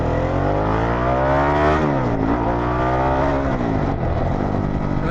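A Harley-Davidson Pan America motorcycle fitted with a Vance Hines exhaust pulls hard, its loud, steady engine note climbing, dipping briefly, then climbing again close by, with no voices.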